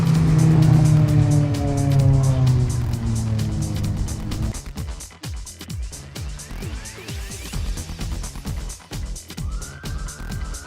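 Racing cars from the Civic Cup on a formation lap at Oulton Park, engines droning and shifting pitch as they pass, the strong tones at the start fading as the sound recedes into quieter, irregular engine noise.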